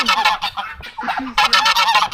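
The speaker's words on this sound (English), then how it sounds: "Your geese is trying to attack me" Several geese honk loudly and close by in quick, overlapping bursts, harsh nasal calls repeating with brief gaps.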